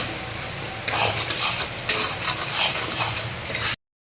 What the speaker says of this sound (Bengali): এই মশলাটাগুলো ভালোভাবে একটু নাড়াচাড়া দিয়ে ভাজা ভাজা করে নিই